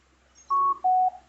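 A Sony SRS-XB33 portable Bluetooth speaker gives its connection tone, two clean electronic beeps in quick succession, the second slightly lower in pitch, clear and close against a quiet background.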